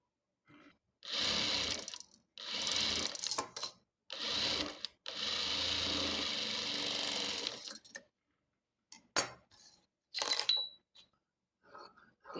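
A sewing machine stitches the neck of a chudithar in several bursts, with a long continuous run in the middle, then short start-stop taps and brief pauses near the end, close and clear with no talk.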